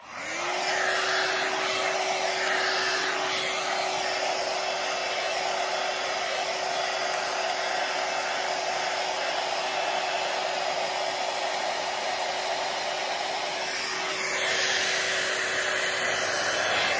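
A hair dryer runs continuously while hair is dried, a steady close whine and rushing air with a slight shift near the end.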